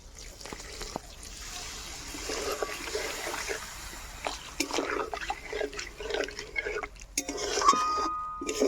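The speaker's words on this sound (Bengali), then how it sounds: "এখন আমি সামান্য জল দিয়ে" Water is poured into a pan of cauliflower frying with spices, producing light splashing, dripping and a rising wet sizzle, fairly quiet and close, with a faint voice in the background.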